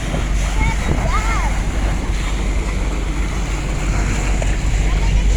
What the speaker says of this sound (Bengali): দেখো কত বড় একটা স্টিমার যাচ্ছে, জাহাজ জাহাজ।